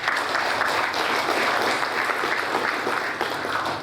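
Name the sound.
applause at a graduation ceremony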